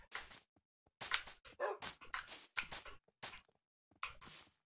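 Dogs in the Minecraft video game bark over and over in quick bursts with short yips, close and fairly loud. The barks come in an uneven rhythm with brief pauses between them.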